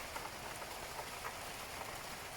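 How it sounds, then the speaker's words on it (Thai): Steady heavy rain with large drops pattering on a surface in Finland, a dense hiss of drops with occasional louder splats, moderately faint and continuous. "ได้ยินเสียงฝนบ่พี่น้องเม็ดใหญ่ก็อย่างนี้ฮะ"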